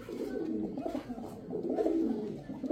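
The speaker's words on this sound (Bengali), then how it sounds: "এই আমার সুগার আফসান গ্রিজেল, আফসান গ্রিজেল রেসার কবুতর" Racing pigeons, including a grizzle-coloured bird, coo in soft, low, continuous rolling calls close by, with no talking over them.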